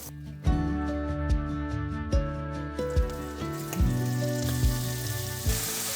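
Small pieces of food frying in butter in a pan, sizzling loudly and close with a steady crackle, punctuated by a few sharp clinks and knocks as pieces are added or moved, with no talking.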